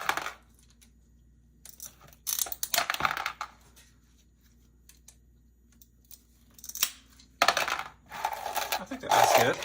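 Glass for vintage-style Colour de Verre ornaments being cut into smaller frit pieces, heard as several separate bursts of crisp snapping and tinkling, clinking shards over a quiet background.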